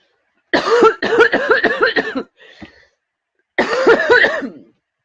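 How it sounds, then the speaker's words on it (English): A rapid fit of harsh, close coughing, a pause with a faint throat noise, then another burst of several coughs. "Excuse me, I need to cough."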